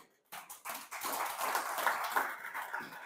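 A church congregation claps together in a broad, steady burst of applause, close and continuous after a brief silent start.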